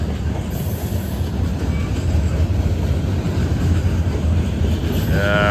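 Heavy Norfolk Southern freight train of roughly 15,000 tons rolling past close by, a loud steady rumble of wheels and cars with faint squeals and a brief high screech near the end.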